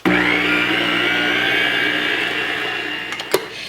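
Electric mixer churning bacon cheeseburger meatloaf ingredients, a loud, steady close whirring drone that fades slightly before a small clunk near the end.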